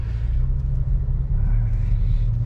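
Honda Civic FE engine droning steadily from inside the cabin while driving in light traffic, a low continuous rumble with slight swells, close and unbroken throughout.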